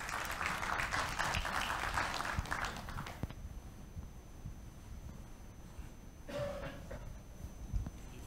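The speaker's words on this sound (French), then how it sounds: "Sous vos applaudissements, s'il vous plaît." A conference audience in Morocco claps in dense, loud applause for about three seconds, then it cuts off into a quiet room hum with a few faint shuffles.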